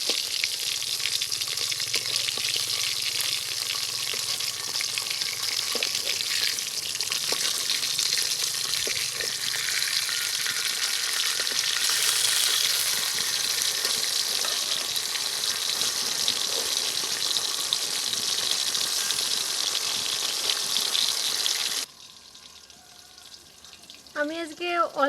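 Rui fish sizzles steadily in hot oil in a pan, a loud continuous frying hiss running almost throughout before dropping off sharply near the end, with faint clinks as the fish is turned.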